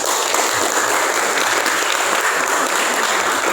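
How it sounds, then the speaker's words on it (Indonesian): A classroom of students claps together in a dense, even burst of applause, close and loud, holding steady throughout without talk over it. "tepuk tangan dulu buat kita semua"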